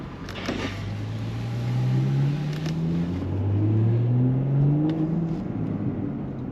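A 440-horsepower Porsche Panamera Sport Turismo 4S engine revving, a deep rumbling exhaust note that swells and falls in two long sweeping rises, loud and close with no talking.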